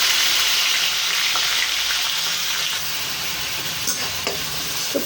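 Onion paste fries in hot oil with cloves, cardamom and cinnamon, giving a loud, continuous sizzle alongside occasional scrapes and stirring taps in the pan.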